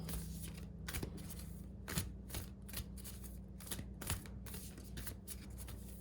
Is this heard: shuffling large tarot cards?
yes